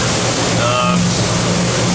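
A boat pushing through choppy waves on open water, a steady roaring rush of engine and water noise with a brief whistling tone, continuous and close throughout.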